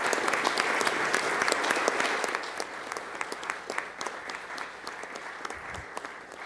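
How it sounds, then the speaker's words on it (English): Sustained applause from people standing in the Senate chamber to honor State Treasurer Jo Ann Oaks, a dense steady clapping that slowly thins toward the end. "Let's rise and give her an applause."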